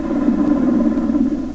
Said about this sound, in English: This is what a normal Black Hawk sounds like.